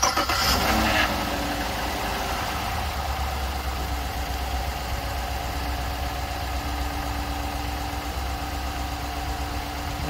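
A car engine cranks and catches after a jump start from a portable battery jump starter, a brief loud start that settles into a steady close idle with no speech.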